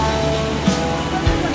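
A waterfall at a bathing spot gives a steady, unbroken rushing roar, fairly close and even throughout, with a few faint bumps over it.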